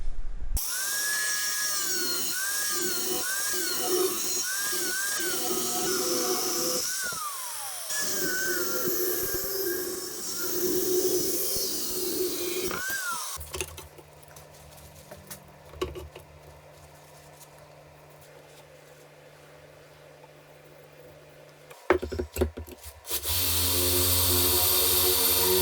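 A power tool whines and grinds through a metal moped swingarm, cutting and drilling, rising and falling in pitch with short pauses, then a steady lower machine drone follows.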